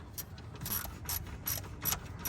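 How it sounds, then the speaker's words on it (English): Ratchet being worked to tighten the fan control unit on an Audi TT MK1, a series of close, regular clicking bursts roughly every half second with no talk. "you just want to tighten the fan control unit"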